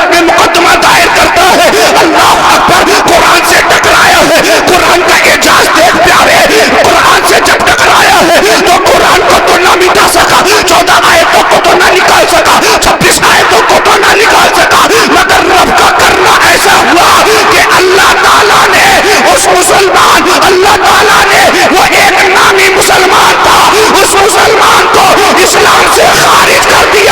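Large crowd at an Islamic speech gathering shouts a takbir chant, a dense, loud continuous roar of massed voices that holds steady throughout.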